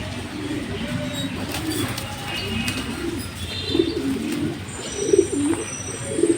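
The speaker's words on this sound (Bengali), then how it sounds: "মাদি কবুতর।" A female racing pigeon coos in a loft, with soft, low, repeated throaty calls that come in short bursts over a busy background of faint chirps and rustling.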